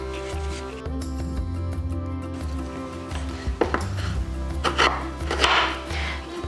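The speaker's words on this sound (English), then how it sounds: "Cut our pear into bite-sized pieces and just add it to the bowl" A knife cuts a pear into bite-sized cubes on a board, giving a few sharp chopping taps close by over a low steady background hum, with no talking.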